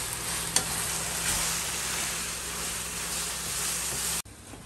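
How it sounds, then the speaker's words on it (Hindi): Vegetables and mushrooms are stir-fried in a pan, a loud, steady sizzle and frying crackle close up, ending abruptly. "अब 2-3 मिनट मैं इनको इन सब्जियों को भूनूंगी"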